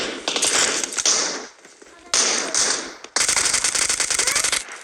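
Automatic weapon fire in the mobile battle royale game PUBG Mobile, three rapid rattling bursts separated by short pauses, the last burst longest, with clicky mechanical textures between.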